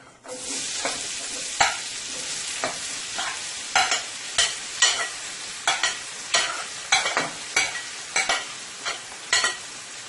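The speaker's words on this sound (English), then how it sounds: "And I'm going to let it saute for about a minute or 2." Onions, chili pepper and garlic sauté in a pan for Guyanese-style egg and rice, a steady close sizzle broken by frequent scraping strokes of a utensil stirring against the pan.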